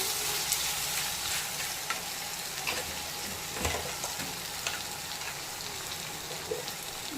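Chopped tomatoes sauté in a pan for a chicken gravy, making a steady, rain-like sizzle with occasional spoon taps and stirring scrapes, close by and moderately quiet, with no talking.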